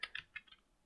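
A few quiet keystrokes on a computer keyboard, four soft taps in under a second, faint and close.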